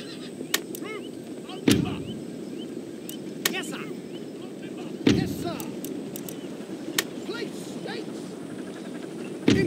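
Artillery fire in the video game Empire: Total War, with several sharp booming cannon shots spaced irregularly over a busy battlefield bed of goose-like honks and murmuring voices, some shots near and loud, others fainter.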